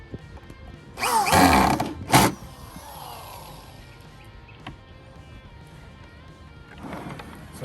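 A power driver whirs in two short loud bursts, driving screws while building a wooden sleeping platform inside a Jeep Wrangler, followed by quieter handling noises, a faint tap and a softer whir near the end.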